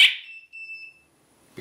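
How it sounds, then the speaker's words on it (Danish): A home alarm siren gives a single short, bright electronic confirmation beep that rings briefly and then fades, followed by near silence and a faint click at the end. "bekræftende bip fra sirenen"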